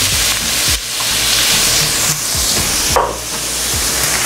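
Chopped onion sizzles loudly in hot coconut oil with dried red chillies for an onion-tomato chutney, a constant frying hiss broken by occasional scraping stirs of the spoon in the pan, close and without talk.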